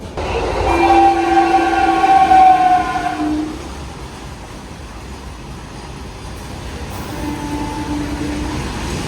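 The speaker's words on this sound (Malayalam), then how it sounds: "നാഗർകോവിൽ മുംബൈ CST എക്സ്പ്രസ് അതാണ് ഈ വന്നത് കണ്ട." A Nagercoil–Mumbai CST express train passes loudly with a long two-tone horn blast, then a steady rumble of wagons rolling by and a brief second horn note.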